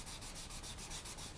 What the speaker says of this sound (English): I'm just going to quickly finish sanding this with the 400 grit